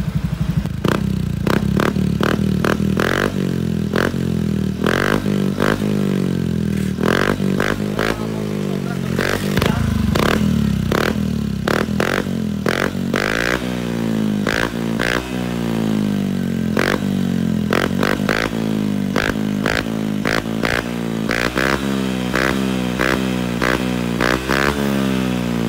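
Honda Beat scooter fitted with an Apido V4 exhaust revs hard and repeatedly, loud and close, with rising and falling engine pitch through a long run of throttle blips and occasional clattery crackle.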